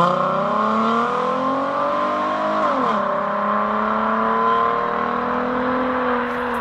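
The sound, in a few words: tuned Ford Mustang engine roaring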